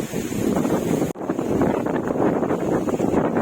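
Strong wind sweeping along the Godavari river in Konaseema buffets the microphone with loud, continuous roaring gusts, broken by a brief dropout partway through.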